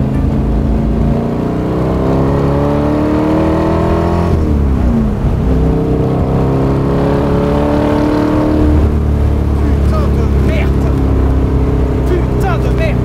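Big-displacement car engine with oversized carburetors revving hard, a loud, close, roaring drone that climbs in pitch, drops sharply and rises again, with people talking over it.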